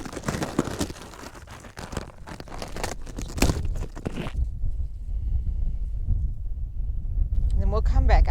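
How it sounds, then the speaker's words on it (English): Wind gusts buffet the microphone outdoors in a suburban garden in December, a low rumbling roar that rises and persists, with crinkling handling noise and a person's speech early on. "It is a bit windy, so I apologize if you hear the wind."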